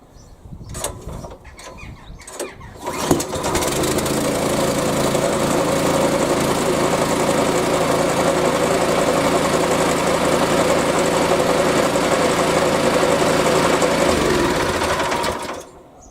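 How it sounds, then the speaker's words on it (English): Hyundai HYSC210 212cc petrol lawn scarifier engine fires after a few quiet pulls and settles into a steady, loud, close running drone with a buzzy vibration, then cuts off at the end. "And that's a hot and cold start on your scarifier."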